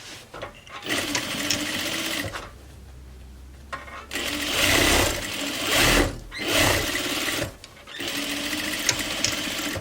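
A sewing machine stitching a reversible grocery tote bag runs in loud, close bursts of rapid mechanical whirring, stopping and restarting several times with brief quiet gaps between runs.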